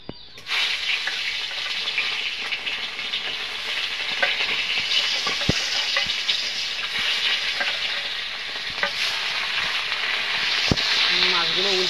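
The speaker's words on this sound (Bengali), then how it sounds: "তেলটা গরম হয়ে গেছে, মাছগুলো ভেজে নেব।" Small rohu-type fish (chara pona) frying in hot oil in a kadai, a loud steady sizzle filling the whole stretch with a few sharp pops and clinks, and a voice talking faintly underneath.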